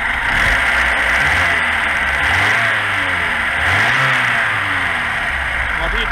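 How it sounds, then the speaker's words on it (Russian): A car with no proper idle, in a workshop hooked to a motor tester, is revved in slow swells over a steady engine drone and background noise, with talk over it. "Пробуем делать перегазовку."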